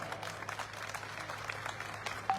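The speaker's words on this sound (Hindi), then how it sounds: "कानपुर की जोरदार तालियां।" A live audience at a political gathering in Kanpur claps together in a sustained, dense burst of applause that stays fairly even throughout, with a slight swell near the end.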